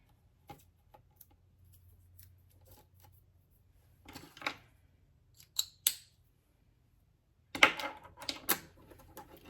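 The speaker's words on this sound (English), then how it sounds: "I'm going to use the scissors." Scissors snip through paper in several short bursts separated by pauses, crisp and close, with quiet handling noises in between.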